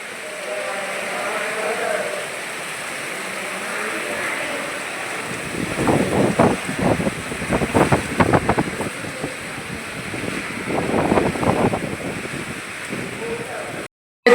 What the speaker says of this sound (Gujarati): જો મિત્રો, વાવાઝોડું ચાલુ છે